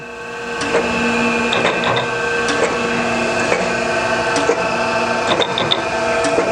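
A Chevalier 12 x 24 inch precision surface grinder runs a programmable automatic plunge grinding cycle, giving a steady loud hydraulic and spindle drone. Sharp clicks and ticks recur every second or so throughout.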